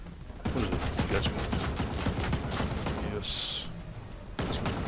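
Cannons on a robot enemy fire in Ghost Recon Breakpoint, a dense run of rapid booming shots. A short hiss breaks in near the end, and talk runs over the gunfire.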